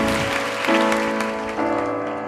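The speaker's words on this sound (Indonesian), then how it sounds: "Kasih tepuk tangan yang lebih meriah untuk Tuhan." A church congregation claps steadily beneath loud, sustained musical chords.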